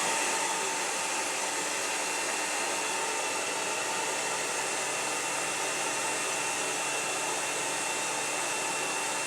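A hair dryer blows hair in a salon, a steady, even whoosh holding at a constant level throughout with no pauses.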